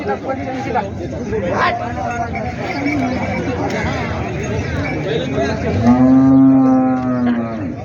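A bull lets out a loud, long moo near the end, over a steady crowd murmur and animal noise at a busy cattle market in Parbhani, India.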